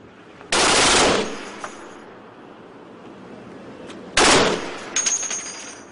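Automatic gunfire rings out during a military night live-fire exercise, two loud bursts a few seconds apart separated by a quiet hush, with no talking.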